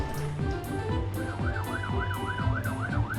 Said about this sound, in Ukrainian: гучна сирена, яку чують всі машинки